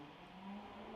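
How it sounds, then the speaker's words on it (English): A loud car passes outside, heard from indoors as a steady low engine drone that swells slightly and holds through the short stretch, with no voices over it. "That's a loud car."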